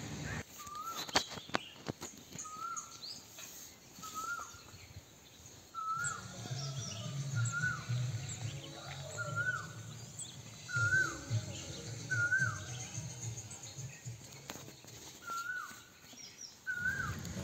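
Birds call in a Konkan village just before rain, with repeated short chirps at a steady spacing over a soft outdoor background, some rustling and footstep-like sounds, and no speech.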